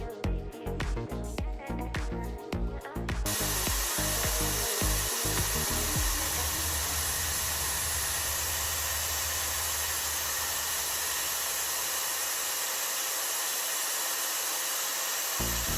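A Milwaukee magnetic drill with a 1/4-inch pilot bit whirs steadily, preceded by a few sharp rhythmic bursts of grinding and knocking, loud and close throughout.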